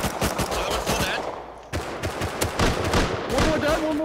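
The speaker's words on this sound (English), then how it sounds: "One more, he's shooting at me." Rapid bursts of automatic gunfire in Rust, close and continuous with short pauses between bursts.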